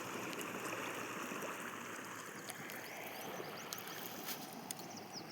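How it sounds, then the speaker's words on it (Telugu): Water flowing steadily along a large canal in front of a house, a continuous broadband rush with no talk, with a few faint clicks and chirps on top. "మా ఇంటి ముందు అలాగే కొంచెం ముందుకు వస్తే ఇలా నీళ్ళు వెళ్తూ ఉంటాయి ఫ్రెండ్స్."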